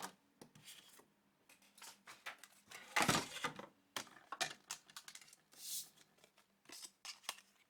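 Scissors cut cardstock for a handmade butterfly birthday card in close, crisp snips with short pauses between them. The snips come in uneven bursts, and one longer rustling cut falls in the middle.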